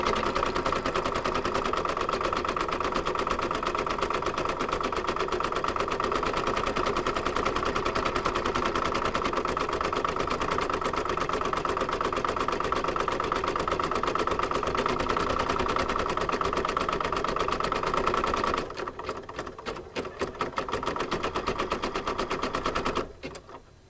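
An embroidery sewing machine stitching an apple coaster runs as a steady, loud, fast mechanical rattle for about twenty seconds, then sputters and stops briefly before resuming and cutting off.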